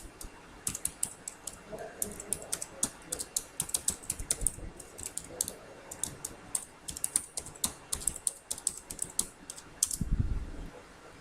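Close computer keyboard typing while Python code is written, coming in irregular bursts of clicking keys with short pauses, fairly quiet, and a faint low thump near the end.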